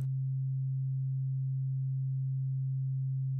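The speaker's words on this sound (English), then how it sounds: "we hear the sine wave and see it on the scope." A steady, pure low sine tone from a Eurorack disting module, recorded through an Expert Sleepers ES-9 interface, hums evenly and continuously at constant pitch, alone with no other sounds.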